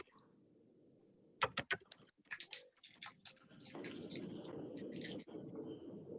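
Computer keyboard typing with a quick burst of clicks, then irregular key taps over steady background noise, fairly close and moderately loud, with no voice.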